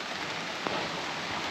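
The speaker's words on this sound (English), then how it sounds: "we're still getting some rain." Steady rain falls on a forested mountain trail, a dense continuous hiss of drops on leaves and ground with one brief tap of a nearby drop, and no voices.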